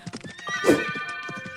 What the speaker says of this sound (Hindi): कुछ देर बाद राजकुमार घोड़े पर बैठता है।